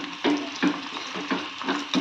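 Onions go into a hot pan and start frying for tomato rice, giving a soft, steady sizzle broken by repeated scraping bursts as they are stirred, with no talking.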